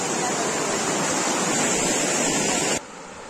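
A waterfall in the forest at Pichula, Keonjhar district, pours in a loud, close, steady rushing roar that fills the whole clip before dropping abruptly to a softer hiss near the end.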